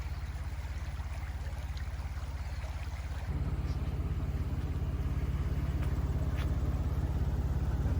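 A four-wheel-drive engine idles on the Tukino Road track near Tongariro, a steady low throbbing rumble that steps up louder partway through, with a soft creek murmur underneath.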